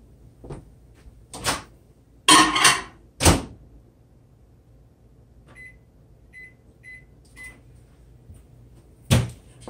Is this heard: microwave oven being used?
yes